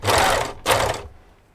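A sewing machine stitches jersey fabric while baby leggings are steered through it, running in two close bursts with a short pause between them and then trailing off to quiet.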